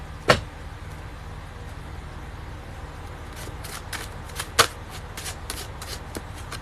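A sharp snap, then a few soft riffles and flicks of a tarot deck handled close by, over a faint low background hum.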